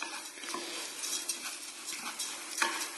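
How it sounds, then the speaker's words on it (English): A spoon stirs risotto in a hot pan, giving steady scraping and swishing strokes over a faint sizzle, close and continuous, with a few louder scrapes toward the end and no talking. "The trick in a good risotto is stirring, a lot of stirring."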